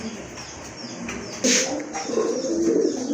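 A pair of big-sized pigeons coos in low, rolling calls close up, with a brief burst of flapping or rustle midway and faint voices in the background.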